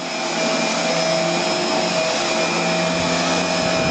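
A Dyson Ball DC24 Animal vacuum cleaner whirs up to full power and keeps running, a loud steady motor drone with a high whine, close and uninterrupted.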